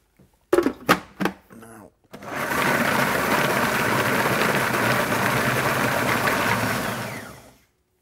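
After a few short bumps and clicks, a food processor whirs loudly as it blends almonds with oil, a steady close motor buzz lasting several seconds before cutting off.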